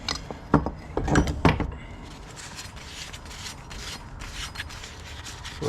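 Grease being worked into a part on a 1999 Craftsman lawn tractor, heard as close rubbing and rasping mechanical scrapes, a few sharper bursts early on, then a steady lower scraping texture.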